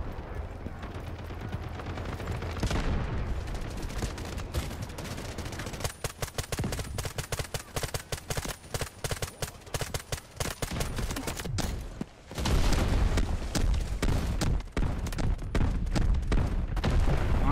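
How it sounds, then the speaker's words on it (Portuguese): Rapid bursts of gunfire and booming explosions in the video game Delta Force Mobile pile up densely, loud and continuous, with a brief lull before the barrage resumes. "É muita explosão, não é pouco não."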